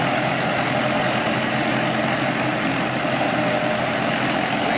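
An engine runs behind a vehicle carrying a large stainless steel tank, a steady dense rumble holding constant and loud throughout with no break.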